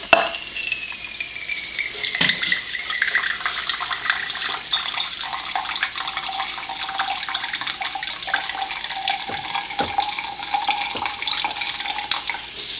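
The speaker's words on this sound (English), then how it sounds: "I like to have it pouring at that level for at least a tiny bit before I take my sample." Water pours steadily from a water ionizer into a pitcher, a continuous close splashing and gurgling stream with a few small knocks, no talking over it.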